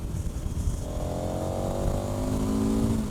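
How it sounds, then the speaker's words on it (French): KTM 1290 Super Adventure motorcycle with a 160 hp engine, a loud, close, raspy engine drone with the pitch climbing steadily as it pulls, no talk. "le moteur, il est ouf"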